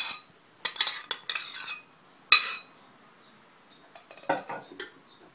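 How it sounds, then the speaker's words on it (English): Butter, yogurt and eggs mixed into cupcake batter of flour, sugar and almond: a few scattered clinks and scrapes of a utensil against a bowl, close and fairly quiet, with short gaps between. "I'm going to add my butter, yogurt and eggs to the flour, sugar and almond mixture."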